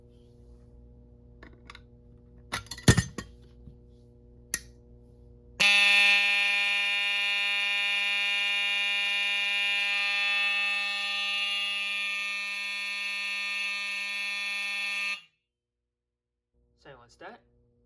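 An Edwards fire alarm panel sounds a loud, steady electronic tone for about ten seconds, then cuts off sharply, with clicks and button presses before it and faint handling sounds after.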